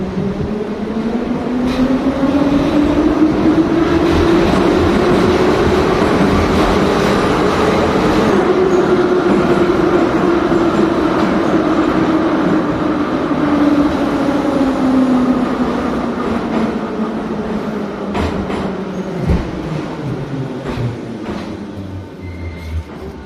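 A Kyiv metro train pulls away after its doors close, a loud, steady underground rumble with a gently rising then falling motor whine running throughout and faint wheel clatter near the end.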